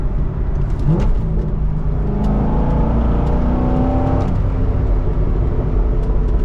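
A Chevrolet C6 Corvette cruises slowly, its engine a loud, steady low rumble with a mild rise and settle in pitch, heard close with no talking.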